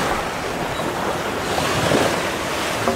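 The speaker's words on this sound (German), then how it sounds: "wir haben achterlichen Wind, aber ein ziemliches Geschaukel, weil die Welle so schräg reinkommt" Waves surge and wash continuously while wind roars across the microphone, a loud, steady rush of open water from aboard a sailboat with following wind and a quartering swell.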